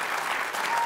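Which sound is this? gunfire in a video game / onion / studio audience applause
studio audience applause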